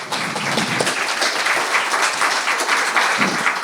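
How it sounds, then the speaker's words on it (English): Studio audience applause, a loud, steady wash of many hands clapping close by with no break, filling the whole moment without speech on top. "let's clap it up"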